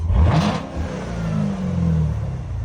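A Chevrolet Corvette C7 Z06 engine blips sharply with a rising rev at the start, then settles into a deep, rumbling idle that swells slightly, close and loud.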